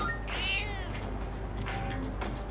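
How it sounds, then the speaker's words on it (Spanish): A cat meows in the video game Persona 3 Reload, one loud drawn-out meow near the start followed by softer chirpy mews and small sounds, with no talking. "Miau, miau."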